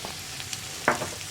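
Tomato and green peas stir-fry in a frying pan with a soft continuous sizzle, broken by one quick, louder scrape of the spoon through the mix.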